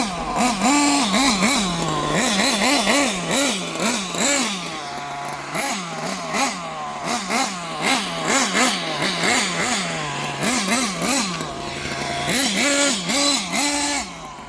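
Kyosho Neo 4.0 nitro RC buggy engine with a freshly cleaned engine, buzzing loud and close in repeated rising-and-falling revs, blipping up and settling back to idle over and over without talk.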